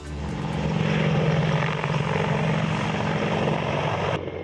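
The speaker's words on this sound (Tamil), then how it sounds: "இரண்டு சக்தி வாய்ந்த டர்போ ஷாப்ட் ரக இன்ஜின்களை கொண்ட இந்த ஹெலிகாப்டர்" An Apache attack helicopter with twin turboshaft engines flies overhead, giving a loud, steady rotor and turbine roar that holds for several seconds before dropping off abruptly.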